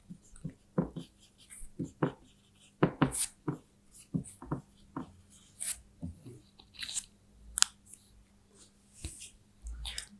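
A teacher writes on a board, producing a series of short scratchy taps and strokes at an irregular pace, with soft breathing between them.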